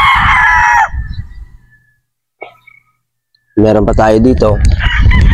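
A pure Boston Roundhead broodstag rooster crows loudly near the start, its call fading into quiet before someone speaks at length afterward.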